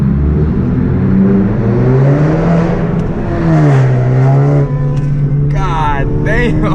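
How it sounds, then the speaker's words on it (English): A car with a catless downpipe exhaust revving loudly up close, the engine note rising and falling through several throttle blips with a raspy, droning tone. "so I can rev it and not bother these people on this side"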